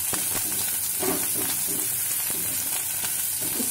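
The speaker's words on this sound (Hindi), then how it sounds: "अब इसमें अदरक लहसुन बारीक कटा हुआ डालेंगे।" Finely chopped ginger and garlic frying with onion in hot oil for soya chilli, a constant loud crackling sizzle with soft stirring scrapes underneath, close up and without talking.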